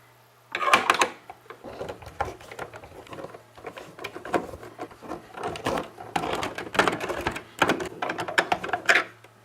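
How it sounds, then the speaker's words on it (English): Screws being removed from the Nintoaster, a toaster-shaped console, to take its casing apart: a close series of clicks, rattles and tool taps in irregular bursts, with small parts clattering and no voices. "So commence the unscrewing montage."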